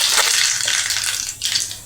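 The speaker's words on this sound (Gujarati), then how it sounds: "આપણું તેલ ગરમ થઈ ગયું છે। હવે હું એમાં 1 ચમચી રાઈ નાખીશ।" A spoonful of mustard seeds tipped into hot oil gives a loud, bright sizzle with rapid crackling that rises and dips over a couple of seconds, with no one talking.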